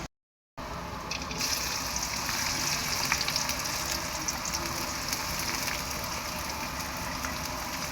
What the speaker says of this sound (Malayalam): കട്ട് ചെയ്ത് വെച്ചിരിക്കുന്ന ഉള്ളി അത് വറക്കാനായിട്ട് ഇടാം